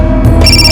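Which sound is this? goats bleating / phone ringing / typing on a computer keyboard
phone ringing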